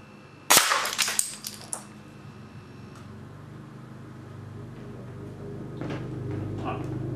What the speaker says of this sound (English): I'll go try and hit it with a BB, see if I can.